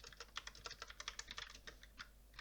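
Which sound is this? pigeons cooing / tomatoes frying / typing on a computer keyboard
typing on a computer keyboard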